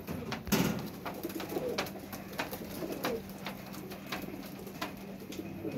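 Weaver pigeons, a Rampuri and Teddy cross, coo in low, soft repeated phrases close by, with scattered clicks and light rustling around them and no talking.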